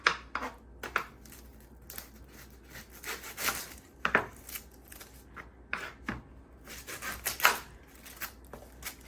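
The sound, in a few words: chopping onion with a knife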